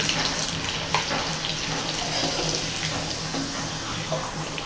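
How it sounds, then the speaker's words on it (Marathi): Wheat bran papad frying in hot oil, a steady broadband sizzle and bubbling throughout with small pops, close and fairly loud, no talking. "आता आपण ही गव्हाच्या भुश्याची एक पापडी तळून पाहूया"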